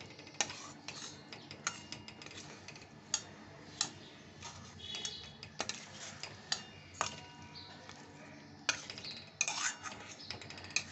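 A spoon clinks and scrapes against a bowl while ingredients are stirred together with milk powder, giving irregular sharp taps over a quiet background.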